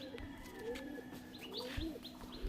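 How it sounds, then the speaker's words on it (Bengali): Pigeons in a loft coo softly with repeated low throaty calls and a few higher chirps, faint and close, over a quiet background hum. "এটা নর পায়রা আছে, নরটা ওড়ায়নি কোনোদিন বলছে"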